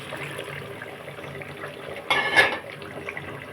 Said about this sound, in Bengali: এই বাকি জলটা দিয়ে দেবো।